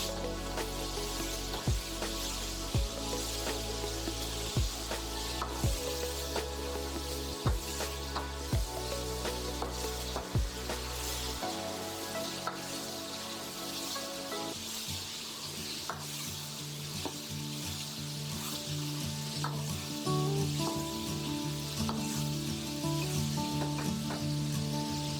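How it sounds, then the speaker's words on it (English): Pork pieces fry in a pan with a low, steady sizzle, marked by regular spatula taps early on and then quieter shuffling as they are moved around. "Move this around and fry until it's almost all the way done."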